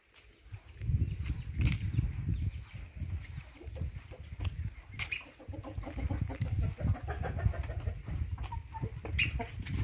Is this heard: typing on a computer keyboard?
no